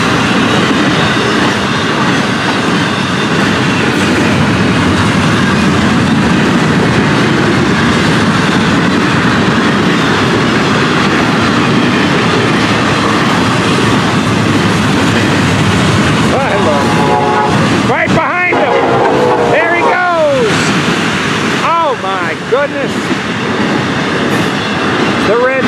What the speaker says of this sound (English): Hey, look at this train tonight.